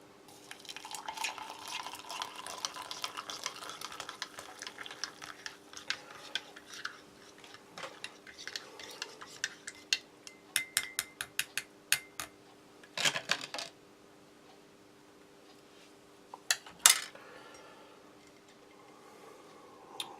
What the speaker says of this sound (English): I think I'll use the Russian spoon to stir this one.